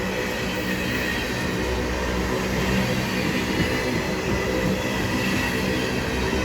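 A long empty ethanol train, around 500 cars, grinds slowly along a siding toward a signal: a continuous close rumble of rolling wagons with faint wheel squeal and soft irregular knocks.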